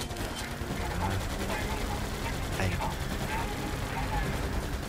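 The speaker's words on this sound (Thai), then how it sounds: "โอ้ยยิงเราแล้ว เพิ่งยิงเราดิตั้งตัวยังไม่ได้เลย" Continuous dense gunfire in the video game Attack on Pearl Harbor, rapid shots layered over a noisy naval battle background, steady and loud throughout.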